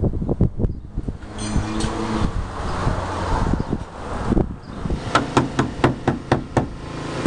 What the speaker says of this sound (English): so Jess is putting fire blocking in here now.